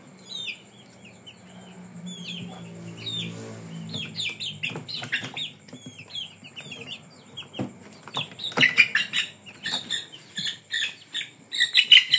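Clucks and squawks from an imported Indio Gigante chicken, starting sparse and growing busier and louder toward the end, with sharp chirpy calls scattered over a faint low background hum.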